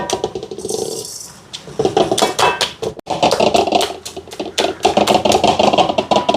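Boiled greens being mashed in a metal pot for a Tamil home-style lunch, a run of rapid, close scraping and knocking strokes with short pauses between bursts.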